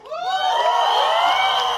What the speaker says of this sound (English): if you like them, you'll hoot or clap